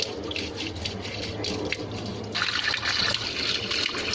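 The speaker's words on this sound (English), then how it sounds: "We will fill the water, whether the drain valve is holding or not." Tap water pours into the tub of a top-load washing machine during a drain-valve leak check, a steady splashing trickle that grows brighter and louder partway through as the flow strengthens, with no talking.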